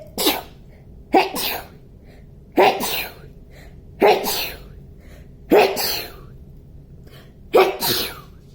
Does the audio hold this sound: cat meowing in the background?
no